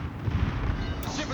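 Warship artillery fires in World of Warships as a heavy, muffled low boom with rumbling decay over about a second and a half.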